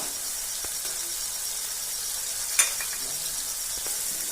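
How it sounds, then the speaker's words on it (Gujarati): Chopped tomatoes with coriander-cumin powder cooking in a kadhai for Gujarati dudhi kofta, giving a steady, even sizzle and hiss close up, with one brief clink partway through. "તો ટમેટા આપણા ચડી રહ્યા છે."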